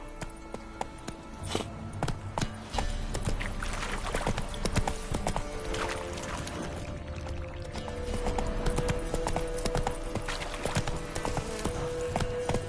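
Horse hooves clip-clopping at a quick, steady gallop in the Witcher 3 video game, continuous and close with faint game ambience underneath, no speech.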